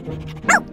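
A small female dog gives one short, high yip near the end of the moment, after a faint low whine.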